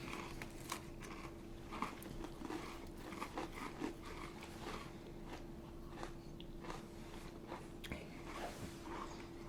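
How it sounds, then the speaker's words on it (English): Crunchy bites and chewing of mint Oreo thin wafer cookies close to a microphone, a steady run of small crisp crackles and crunches over a faint background hum. "No chewing in the mic."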